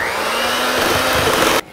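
An electric hand mixer beats an egg into creamed cheese and sugar, a steady close whirring drone that runs continuously and then cuts off abruptly near the end.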